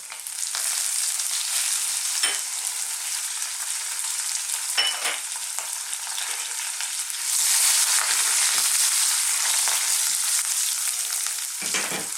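Curry leaves hit hot oil in a pan for a chickpea mushroom fry, giving a bright, continuous sizzle that swells partway through, with occasional stirring scrapes and no voices.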